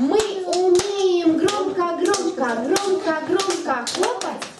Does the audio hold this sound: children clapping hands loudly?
yes